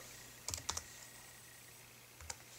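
A few quiet clicks on a computer keyboard while someone types on a Mac: a quick cluster of keystrokes, a pause, then one more tap, in a still room.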